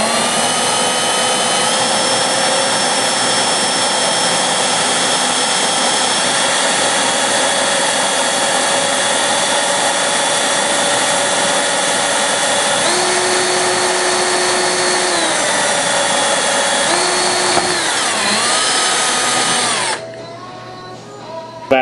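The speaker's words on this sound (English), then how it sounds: "Now that we're through the gel coat, we'll put the drill into low side" A power drill with a hole saw cuts through the gel coat of a boat hull during fish finder transducer rigging, a loud continuous whine that shifts pitch several times before cutting off near the end.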